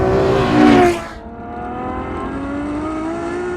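Ferrari F12 sports car with a loud engine roar that rises in a brief acceleration burst, then settles into a steady, strong drone with climbing harmonics as the car pulls along a straight line.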